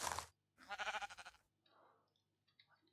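A sheep bleats in a Minecraft-style video game, a short quavering call after a sharp click, followed by softer clicks and faint game noises.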